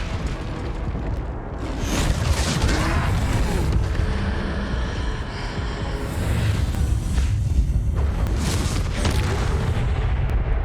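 Confringo spell explosions in the Hogwarts Legacy video game sound as loud, dense booming blasts and rumbling bursts. They fill the whole stretch, swelling in waves at close range.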